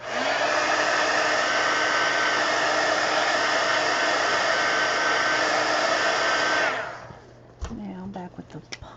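A hair dryer blows on a paper collage in an altered book, a loud steady whir lasting about seven seconds before switching off, followed by faint handling sounds and brief talk.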